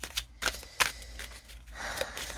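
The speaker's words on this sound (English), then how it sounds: "So this card deck shuffles, but what it seems to do quite easily is flip" A deck of thin tarot cards being shuffled by hand, with a few crisp riffling bursts and soft papery flicks in between, close and fairly quiet.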